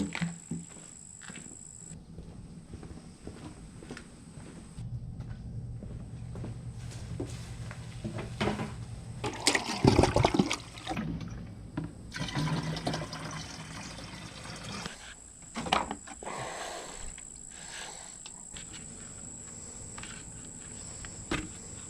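Water, rainwater and a little vinegar being mixed to bring a blueberry bush's pH down, heard as intermittent close pouring and liquid sloshing with container clatter, loudest in a brief burst near the middle.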